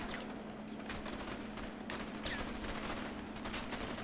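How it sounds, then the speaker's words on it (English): Shotgun blasts during a shootout in the video game A Way Out, several rough bursts of game gunfire rising and falling over a constant low hum, fairly quiet overall. "Shotgun!"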